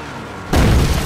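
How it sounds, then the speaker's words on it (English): A car getting hit in GTA 5 roleplay: a sudden loud crashing boom cuts in over faint background noise and rings on briefly. "Bro, you just hit my car!"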